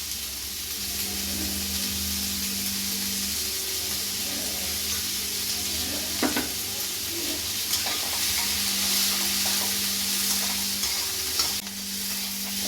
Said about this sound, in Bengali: পেঁয়াজটাকে নাড়িয়ে চাড়িয়ে দিয়ে দেবো হলো আলু আর মটরশুঁটি। এটাকে একটু নাড়াবো